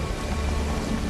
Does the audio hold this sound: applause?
no